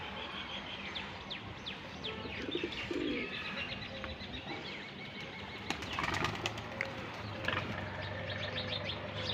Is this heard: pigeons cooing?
yes